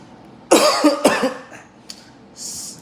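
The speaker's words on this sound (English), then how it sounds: "Man, this cough." Two harsh, close coughs in quick succession, followed by a quieter throaty sound and a faint breathy exhale, with no talking.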